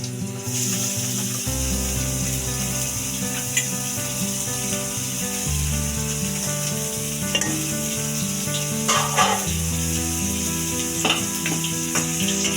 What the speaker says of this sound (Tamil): இந்த மாதிரி பொடியா வெங்காயம் கட் பண்ணி வச்சிருக்கோம். எண்ணெய் காஞ்சதும் அதில் போடணும்.